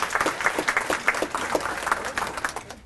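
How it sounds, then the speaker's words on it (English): An audience at a women's awards event applauds the teachers, with loud, close hand claps in uneven bursts that rise and fall. "Let's give a round of applause to the teachers who teach these wonderful children."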